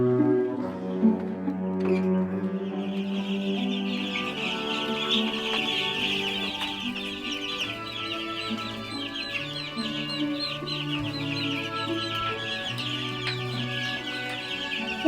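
Young chicks in a chicken house chirp and cluck continuously in a steady, busy chorus, mixed under music playing throughout.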